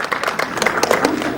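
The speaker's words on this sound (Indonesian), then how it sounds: "Ini dia, tepuk tangan dong." Audience clapping at an Indonesian film press conference, a brief burst of scattered applause heard under an emcee's voice.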